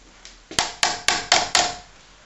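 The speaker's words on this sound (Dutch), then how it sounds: "Met spijkertjes en met hamer." Small nails driven with a hammer: five sharp, close metallic strikes in a quick, slightly uneven rhythm, each ringing briefly before the next blow.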